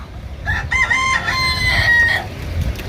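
A rooster crows once, a drawn-out cock-a-doodle-doo lasting nearly two seconds, fairly close and loud over a quiet background.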